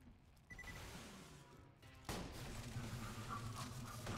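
Game gunfire in Borderlands 2 during a co-op hunt, sustained bursts of shots that grow louder and denser midway and then keep up a steady barrage, with no talking.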